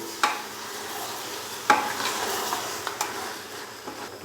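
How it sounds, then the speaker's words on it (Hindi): Beef with salt, red chilli powder and turmeric is stirred and fried in a pan for pyaz gosht, a faint sizzle broken by a few sharp spoon scrapes and knocks. "अभी मैं इसको अच्छे से मिक्स करूंगा और यहाँ पर हम इसको भून लेंगे"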